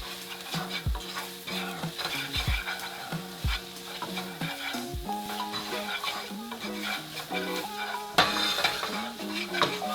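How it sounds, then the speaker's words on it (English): Freshly ground turmeric stirred in a pan, with repeated scraping strokes of a utensil against the metal and a faint sizzle underneath, steady and close with no talking. "freshly grounded turmeric. Give this a nice little stir."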